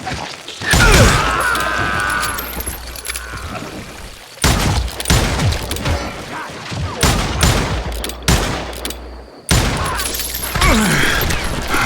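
Rapid gunfire bursts from a Wild West shootout in the Call of Juarez video game, loud and close, with dense volleys broken by short pauses and sharp crashes.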